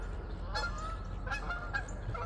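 Several geese honk at a distance, a few nasal calls spaced out over a steady low rumble of background noise.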